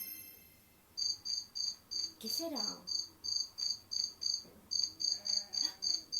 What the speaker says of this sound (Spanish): Un grillo, Pedrito.